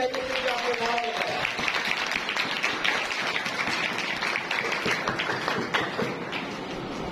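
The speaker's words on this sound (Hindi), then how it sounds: "जोरदार तालियां अपने लिए बजाइए क्योंकि आपने नाम लिया।" A church congregation claps loudly during a pastor's sermon, dense rapid hand clapping over a sung or spoken tone at the start, then continuing steadily and crisply throughout.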